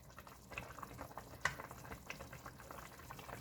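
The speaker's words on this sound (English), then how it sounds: "just let it come up to a simmer" Borscht with potatoes simmers in a pot, giving a faint, steady bubbling and gentle popping with a few slightly louder blips, heard close and without talk.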